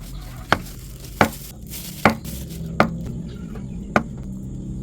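A knife chops spring onion leaves on a board, five distinct, evenly spaced cuts about two-thirds of a second apart, close and crisp over a faint background hiss.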